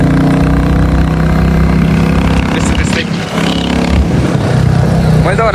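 A Royal Enfield Bullet Reborn 350 motorcycle is ridden on a road between Nuwakot and Kathmandu. Its engine gives a loud, steady drone throughout, with someone talking over it.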